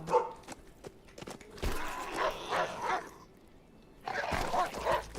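A dog attacks a zombie in the survival game HumanitZ, with a cluster of snarling, yipping bites and whimpers in short bursts, a brief lull, then another flurry of biting noises near the end.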